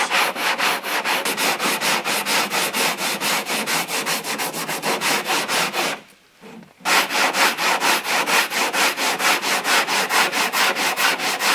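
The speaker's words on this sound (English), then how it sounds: "give it a light once over with some 18. Making sure you cross-hatch your sanding" Close, steady hand sanding of body filler on a car panel with 180-grit paper, brisk regular back-and-forth strokes in a cross-hatch pattern, pausing briefly midway before resuming at the same even rhythm.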